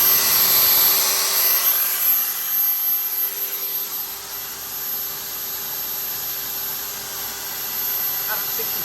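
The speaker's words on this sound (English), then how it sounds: "a 700 watt drill." A 700 watt electric drill runs continuously alongside a jug and toaster powered from a 200ah lithium battery, giving a steady high whine and hiss that eases slightly after the opening and then holds level.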